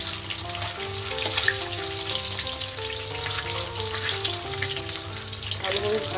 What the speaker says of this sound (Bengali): ডিমগুলো ভালোভাবে ভেজে নেব।